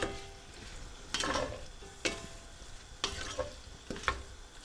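Chopped leftover turkey and vegetables sizzle quietly in a hot pan, with a few bursts of stirring and scraping at irregular intervals, no talking.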